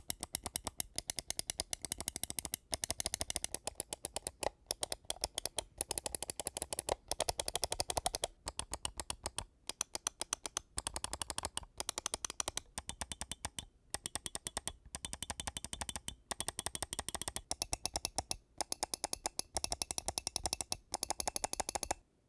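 Rapid, crisp clicking of gaming mouse button switches, close-up, in fast bursts with brief pauses, continuing throughout.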